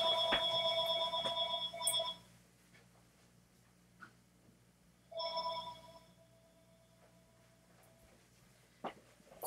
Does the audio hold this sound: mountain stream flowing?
no